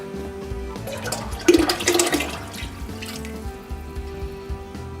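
Buttermilk poured into warm milk in a pot for American cheese making, a steady watery splashing pour that swells briefly in the middle over a low background hum, no talking.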